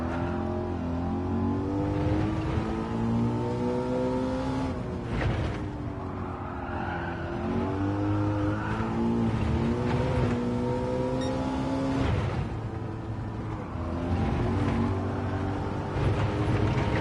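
A Ford Mustang slides through the corners of Laguna Seca in Gran Turismo 7, its engine droning steadily with rising and falling revs and tyre squeal layered over a constant roar for the whole stretch, with no talking.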